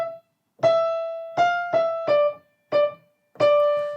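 A piano plays a short phrase from Attwood's Allegro from Sonatina No. 2, six separate notes with the third crotchet held down into the next, close and clear with brief gaps between notes.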